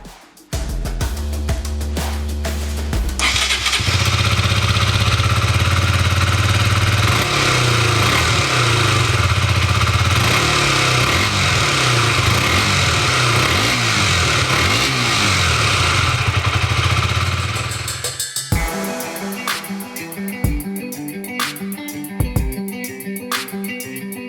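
A KTM 125 Duke motorcycle engine roars loudly up close while riding, revving hard and holding a strained drone through the gears, then dropping to a lumpier idle with clattering near the end.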